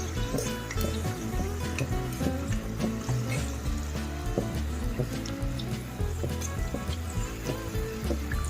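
Jaggery and coconut kajjikayalu fry in hot oil, a continuous crackling sizzle with scattered pops and bubbling throughout, close and steady with no voices.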